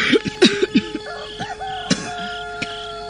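A man coughs in a radio drama, giving a quick cluster of rough, raspy coughs near the start and a couple of isolated hacks later, close and clear.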